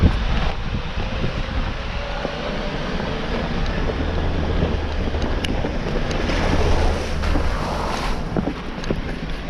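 A Jeep rolls through a small, shallow water crossing on a rough off-road trail near Radical Hill, with steady broadband splashing and rumbling under heavy wind buffeting the microphone throughout.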